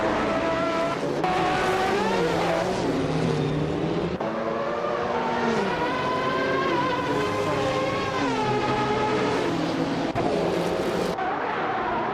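Racing cars in a video game roar off the start line, including a 1984 Porsche 962C Longtail, their engines rising and shifting through gears in a continuous loud drone with overlapping pitches.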